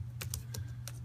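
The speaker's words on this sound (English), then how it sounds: "We'll type in Sidney" Quick keystrokes on a computer keyboard, about five short clicks in an irregular burst, close but fairly soft over a constant low hum.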